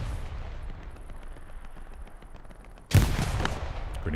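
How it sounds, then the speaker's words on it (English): Grenades exploding in an online military shooter: a quiet stretch of distant crackling gives way to a sudden loud blast followed by a rumbling, noisy tail. "Grenades go off."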